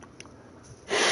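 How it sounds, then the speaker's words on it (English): A person blows their nose: a short snort-like burst near the start, then a strong, close, loud rush of air through the nose at the end. "I'm gonna blow my nose again anyway."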